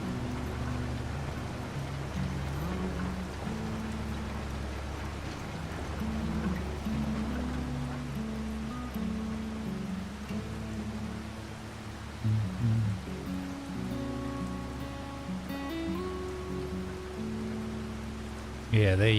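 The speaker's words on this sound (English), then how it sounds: "Got some chilled out rain, light storm, farm equipment noises," Light rain falls in the Farming Simulator 25 game on the Chipping Norton map, a soft, even patter under a low hum of farm machinery and faint music, with a voice talking over it.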